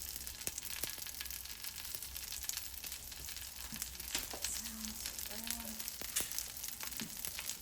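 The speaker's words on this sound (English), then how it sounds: "let that sizzle away on one side before I flip it to the other" Steady crackling sizzle of vegan bacon frying in a pan, continuous and close, with a few sharper pops over the hiss.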